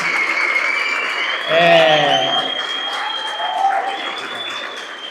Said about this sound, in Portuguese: Eu queria que vocês dessem a maior salva de palmas que vocês podem dar para Deus e para todos os nossos convidados